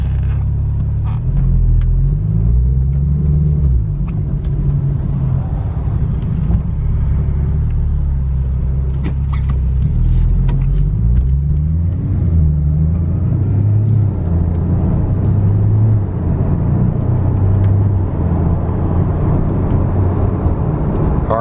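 A 2017 Porsche 911 Turbo S drives along a road with a steady engine rumble and road noise, holding a constant, close interior drone.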